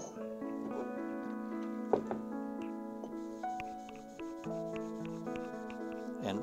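Steady hand rubbing and sanding on a metal amplifier chassis to strip its coating, with continuous scraping strokes close to the microphone and a brief sharp knock partway through.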